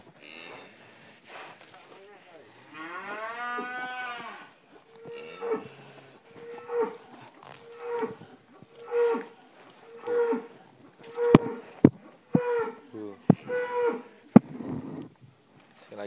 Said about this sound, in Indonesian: 2 ekor sapi simental dan sapi satunya lagi ini